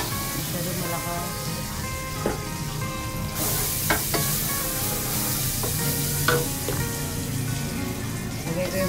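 Butter melting in a hot pan before garlic shrimp are cooked, sizzling and crackling loudly and continuously up close, the hiss swelling partway through, with occasional utensil taps and a voice speaking over it.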